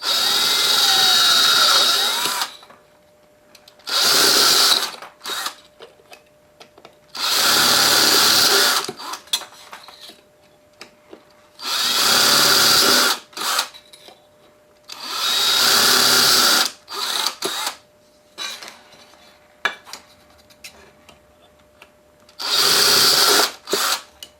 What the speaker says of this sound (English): I'll drill this one closest to the center.